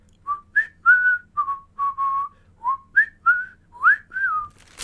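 A person whistles a short melody of about a dozen clear notes, some sliding upward, with small gaps between them and no other sound.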